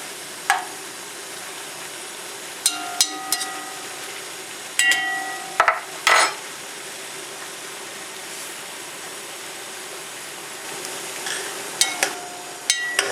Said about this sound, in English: Lots of stirring on the sausage.